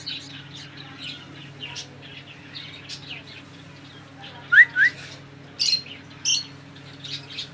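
A red-vented bulbul chick being hand-fed gives a few sharp squawking calls in quick pairs, fairly close, over a steady low hum and faint background chirps.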